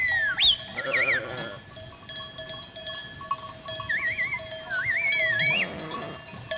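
A grazing sheep flock gives faint bleats, under whistling birdsong and a thin, steady tone, with no talking.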